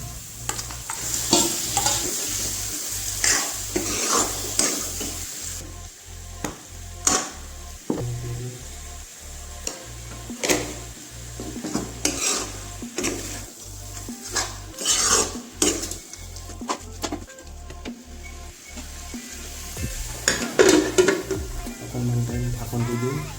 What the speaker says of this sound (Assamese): মছলাখিনি ভাজি লোৱা হ'ল